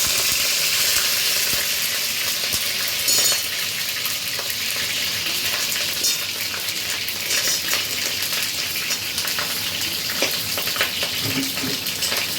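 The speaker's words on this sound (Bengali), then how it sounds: "এবার আমি এতে কপিগুলো দিয়ে দেবো ভাজার জন্য" Cauliflower florets, unseasoned with no salt or turmeric, fry over high flame in a pan, giving a steady, close hiss with scattered crackles and a few light clinks of utensils throughout.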